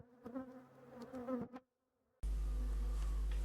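Honey bees swarm around an opened beehive during a traditional hive inspection, giving a dense, steady buzzing nearby that stops briefly and then returns much louder and fuller.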